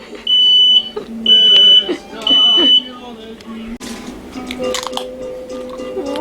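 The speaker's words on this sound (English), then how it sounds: "And then we set off the fire alarm." A smoke alarm sounds three loud, piercing beeps in steady succession while cooking tacos in a kitchen. A voice talks quietly afterward, with clattering noises nearby.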